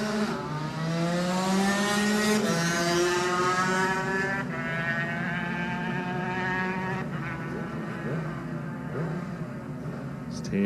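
A Yamaha racing motorcycle in a Classic TT lightweight race accelerates hard through several gear changes, its loud engine note climbing and dropping as it fades into the distance.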